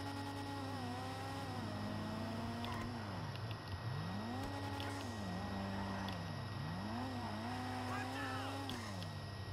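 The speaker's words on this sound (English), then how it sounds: "I love the pop of the engine" Toyota Supra engine in Grand Theft Auto V, revving up and down in repeated rising and falling sweeps with small pops, fairly faint, with a voice talking over it.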